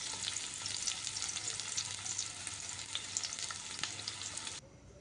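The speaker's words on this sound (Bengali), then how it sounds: "এবার পেঁয়াজ কুচিয়ে করে রেখেছিলাম, এটাকে ভেজে নিতে হবে সুন্দর মতো।" Chopped onions frying in oil in a pan, a dense, steady hiss and crackle of sizzling with faint scattered pops, ending abruptly near the close.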